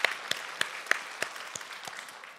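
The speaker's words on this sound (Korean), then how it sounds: "하나님께 이 시간에 감사의 박수 한번 올려드릴까요?" A church congregation claps in thanks during a sermon, a sparse, slightly irregular run of about nine distinct claps, soft and somewhat distant.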